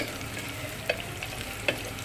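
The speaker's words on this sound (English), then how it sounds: "Okay, I've just added the onions, so you can start to give it a good stir." Onions frying in a hot pot for a sardine curry, a steady soft sizzle broken by two distinct scraping knocks of a spoon stirring against the pot.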